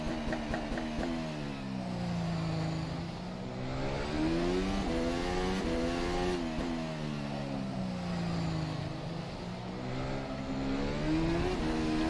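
A Formula 1 car in the rFactor 2 racing simulator at Circuit of the Americas, driven hard, its engine revving steadily up and down through the gears, loud and continuous with no talk over it.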